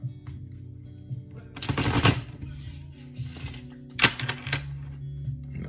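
Tarot cards shuffled by hand in a quiet room, a few soft riffling bursts and thumps as the deck is worked, with brief pauses between them.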